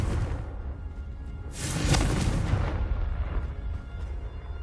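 Confringo fire spell from Hogwarts Legacy bursting into an explosion, a whooshing rush that swells into a broad booming blast over a rumbling game soundscape, with no voices.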